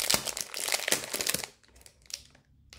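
Crisp crinkling of plastic packaging as stickers from a Temu order are unwrapped, close and busy for about a second and a half, then quieter scattered rustles.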